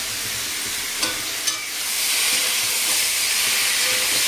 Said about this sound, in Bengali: চিচিঙ্গিটা আগে ভেজে দেবো।